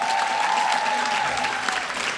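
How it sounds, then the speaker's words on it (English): Applause from a graduation celebration audience after a vocal performance, dense clapping throughout with a sustained tone ringing underneath. "Let's give them all a round of applause"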